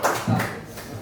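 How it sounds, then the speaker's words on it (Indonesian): A class of students clapping their hands together in a classroom before a group presentation, brief scattered claps mixed with voices talking. "Tepuk tangan dulu."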